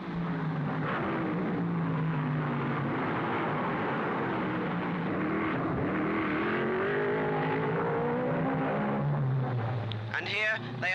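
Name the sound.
1955 Formula 1 race cars rounding Monaco gasworks hairpin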